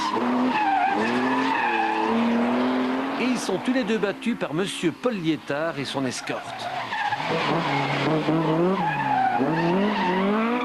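Rally cars race in the 2002 Omloop van Vlaanderen, with engines revving and rising and falling as they pass and brief tire squeals, all under continuous French commentary.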